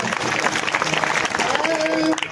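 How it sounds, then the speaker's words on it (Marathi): Loud, dense applause from an audience at a Marathi kirtan, a devotional sermon gathering, sustained steadily throughout with a voice briefly sounding over it near the end. "जोरदार टाळ्या."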